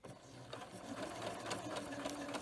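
A Singer Quantum Stylist 9960 sewing machine stitches fabric in a steady, rapid mechanical whir with a fast needle rhythm, heard up close and alone for a couple of seconds.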